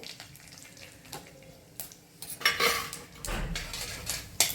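Spoonfuls of chili powder, turmeric and coriander powder go into a pan for methidana chutney, heard as close scraping and clinking of a metal spoon against the pan with soft stirring, a few brief clatters, no voices.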